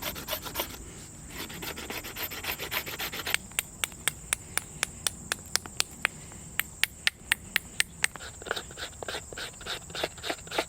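Stone flake scraping wood to shape an atlatl, close rasping strokes repeated in a quick irregular rhythm, with sharp scrape transients throughout.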